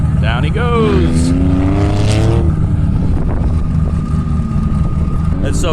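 Sandrails and dune buggies racing across the Glamis sand dunes, engines revving and whining past at varying distances, loud throughout, while someone talks over the motor noise.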